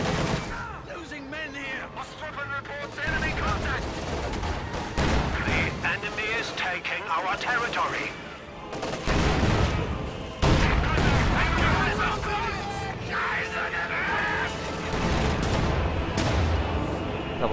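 IS-2 tank cannon shots in a real-time strategy war game sound as heavy booms amid continuous battle gunfire, while a commentator talks throughout.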